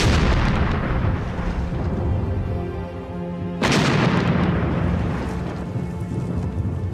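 A World War 1 artillery barrage rumbles as a dense, roaring wall of booms and deep thunder, one heavy blast swelling at the midpoint before the sustained rolling fire continues without voices.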